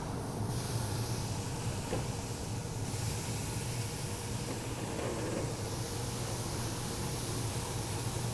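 Steaks grilling over direct flame on a Yoder YS640S pellet grill, a continuous loud sizzling hiss that holds steady throughout, with no voices.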